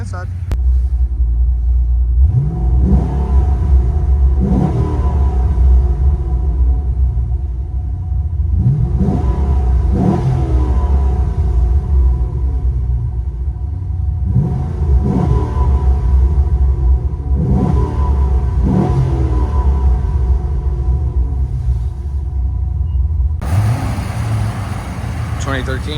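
Inside a cammed Chevy Caprice 6.0L V8 with headers and Borla ProXS mufflers, the engine drones with a deep muffled rumble while the driver blips the throttle repeatedly, giving rhythmic rising revs heard through the cabin.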